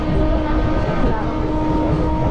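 Steady, loud rumble of a local train running from Howrah toward Rampurhat, a continuous rolling roar with low clatter throughout and no pause.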